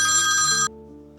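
A mobile phone rings loudly and close with a bright electronic ringtone, then cuts off abruptly partway through, leaving only a quiet low background hum.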